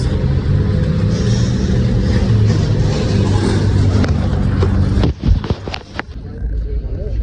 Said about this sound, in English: The bus.